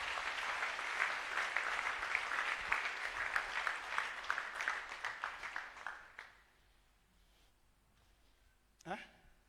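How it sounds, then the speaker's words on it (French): A church congregation at a Sunday service applauds together in a sustained, dense burst of clapping that fades out, followed by near quiet and a brief voice at the end. "Pasteur, on acclame le Seigneur"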